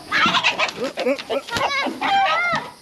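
Chickens cluck and squawk up close in a rapid, overlapping jumble in a chicken coop, with a rooster's longer crowing call rising out near the end.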